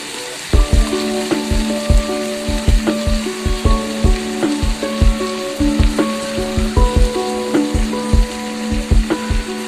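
Chopped banana flower fries and sizzles in a pan while a spatula stirs it, with rhythmic metallic scrapes and taps over a loud, constant crackling hiss, close up and with no talking.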